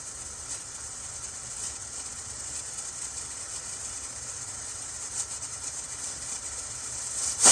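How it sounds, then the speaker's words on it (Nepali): A pressure cooker of goat curry vents steam, giving a steady, even hiss that runs throughout and swells louder at the very end, with no voices. "अब हाम्रो मासु सिटी लागिसकेको छ, लगभग पाकिसक्यो"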